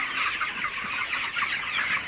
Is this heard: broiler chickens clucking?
yes